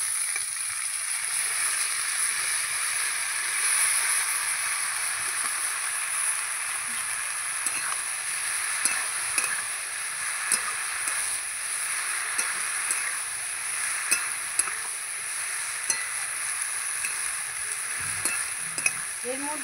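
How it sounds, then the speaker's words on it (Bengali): Water lily stems tipped into a pan of lightly fried onion, giving a steady bright sizzle and frying hiss with occasional stirring scrapes and clinks, fairly close and with no talk. "এই যে পেঁয়াজটা ভেজে নিয়েছি, এবার আমি শাপলাটা দিয়ে দেবো।"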